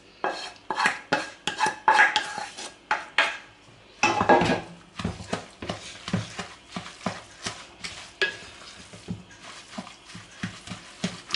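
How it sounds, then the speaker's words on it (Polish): Minced meat and vegetables mixed in a bowl, with repeated close clinks and scrapes of a utensil against the dish and soft squelching in an uneven stirring rhythm, no talking. "do mięsa dodajemy warzywa i dokładnie mieszamy"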